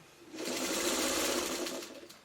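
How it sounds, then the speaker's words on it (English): A sewing machine stitches the bottom seam of a simple tote bag, one steady whirring run of about two seconds, close and clear with no talking. "And I'm sewing the bottom of the bag together."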